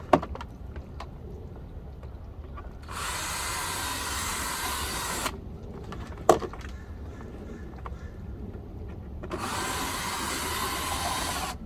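A power drill works on the plastic bumper rivets of a 2005 Hyundai Tucson: two sustained whirring bursts of about two seconds each, close by, separated by quieter handling noise and a sharp click, with no talking.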